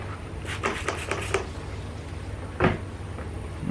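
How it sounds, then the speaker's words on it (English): A Chevy Equinox door is shut with a few soft clicks and rattles, then a single short thud, close by against quiet background noise. "So I'm going to shut the door"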